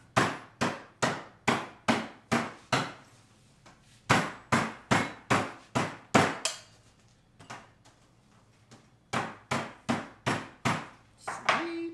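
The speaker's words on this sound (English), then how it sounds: "you're going to hear them banging it up and crush up the ice over here" A mallet pounds ice in a canvas Lewis bag in sharp, evenly spaced strikes, loud and close, in bursts of about six to eight blows separated by short pauses.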